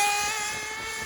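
Nitro engine of a Losi truggy RC car, freshly fitted with a new fuel tank, clutch bearings and exhaust and running roughly tuned, holds a steady, high, buzzing whine close by that eases slightly in loudness, with no speech.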